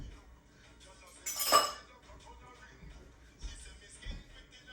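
A spoon clinks sharply against dishes in a home kitchen while shrimp scampi is being made, one bright metallic clink followed by faint shuffling and small knocks, fairly close and quiet.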